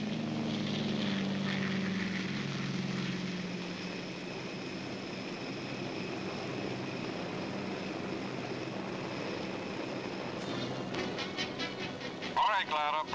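Propeller aircraft towing gliders during the Normandy airborne invasion drone with a loud, steady engine roar that holds throughout, with voices speaking over it.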